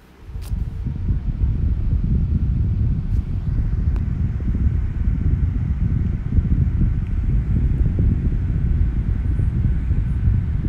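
A 5.5 inch blue Opolar USB desk fan runs at high speed, producing a steady close whoosh of moving air with a low motor hum after a brief start, constant and alone.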